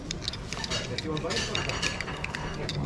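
A spoon swirls espresso in a small cup, giving faint clinks and scraping against the ceramic. A person talks steadily over the stirring.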